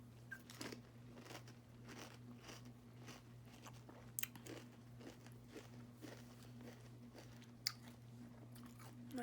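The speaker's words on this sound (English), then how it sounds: "Very, very, very crunchy." Crunchy Special K Vanilla and Almond cereal is chewed close to the mic in quiet, repeated crisp bites and crunches at an irregular rhythm, with faint background hum and no talking.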